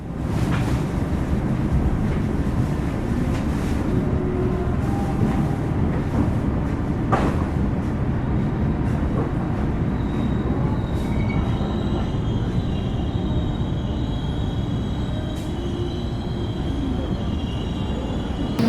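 The KA Ranggajati passenger train, running from Surabaya to Cirebon, rolls on with a loud, steady interior rumble and wheel clatter that holds throughout, with faint squeals and brief clicks on top.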